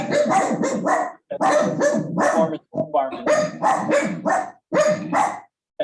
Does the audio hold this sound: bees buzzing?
no